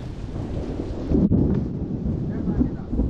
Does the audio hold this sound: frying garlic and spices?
no